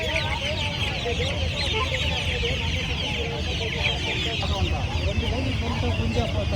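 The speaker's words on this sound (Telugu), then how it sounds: "ఇవి చీటీ కోళ్ళు చూడండి." A crowd of cheeti chickens at the Mydukuru fowl market keeps up a steady stream of clucks and squawks, close and busy, with people talking in the background throughout.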